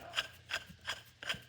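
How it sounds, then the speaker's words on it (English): Threaded nut spun by hand onto a left-hand-thread heim joint on a Ford F150 suspension part, giving four evenly spaced short metallic rasping scrapes, close and fairly quiet, with no talking. "You see I'm literally twisting it on left hand right now."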